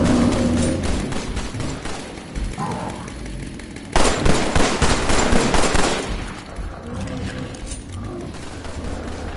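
Gunfire from a pistol in the Killing Floor VR shooter, with busy shots and clatter throughout and a loud burst of firing in the middle, all dense and close.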